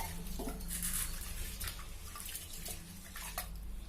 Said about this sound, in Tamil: அது கூட கொஞ்சமாக தண்ணி ஊற்றி அந்த பருப்பை நல்லா கழுவி எடுத்துக்கலாம்.